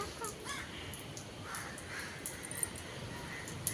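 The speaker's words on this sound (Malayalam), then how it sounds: "അപ്പം ജാനീൻ്റെ ചോറ് തിന്നാൻ വേണ്ടി കാക്ക" A crow caws a few times at a distance near a family home, its hoarse calls faint over quiet outdoor ambience with a couple of small clicks.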